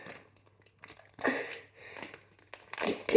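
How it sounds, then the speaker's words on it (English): Tape peeled and torn off a roll close by, short crinkling rips in quiet bursts, growing louder toward the end. "get the tape and tape the shoes to your foot"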